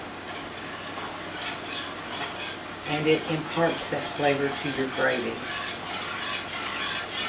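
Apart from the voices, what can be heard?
roux sizzling in pan while stirred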